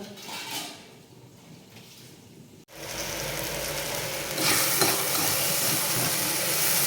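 Sliced okra frying in a pan with salt gives soft sizzling and clinking at first, then a loud, sustained hiss of oil after a sharp break, close to the microphone.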